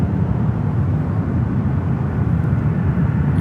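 A Boeing 777-300ER airliner at San Francisco airport produces a loud, steady broadband jet roar with a heavy low rumble, sustained and close, with no voices.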